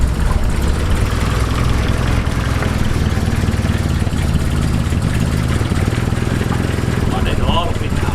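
Freshly swapped engine in an RN46R running at a steady rough idle, loud and close throughout, with a brief voice near the end.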